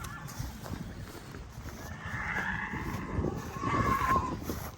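A big, heavy mare at a village horse competition in Smodna, with a clear whinny near the end over hoof clatter and a busy outdoor crowd backdrop.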